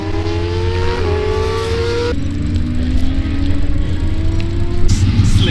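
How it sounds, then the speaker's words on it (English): Yamaha TZ350 racing motorcycle engine revving hard at full RPM on a track, a loud, close, rising whine with clear pitch climbs and drops between gear changes, running continuously without talk. "So plug chops are cutting out the engine at full RPM"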